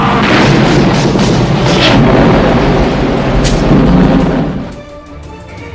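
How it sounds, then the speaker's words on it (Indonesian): Large bomb explosion in a war film set in the Vietnam War: a loud, sustained rumbling blast with booming low roar and debris, lasting several seconds before fading abruptly into quieter aftermath. "Hal itu pun lantas memicu ledakan besar hingga semuanya pun hancur lebur."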